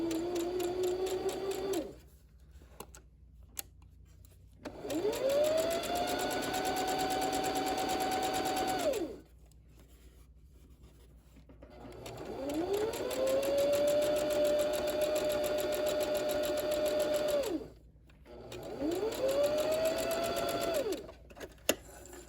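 Sewing machine stitching through layers of fabric for wrap pants, three long steady whirring runs separated by silent pauses, close and clear with no talk.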